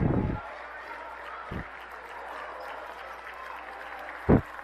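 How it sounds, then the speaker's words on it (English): A home crowd at a Southern Oregon men's college basketball conference semifinal applauds the starters, a steady wash of clapping heard under a play-by-play announcer's voice with a few sharp bursts. "Starters get a big round of applause from the Yotes faithful."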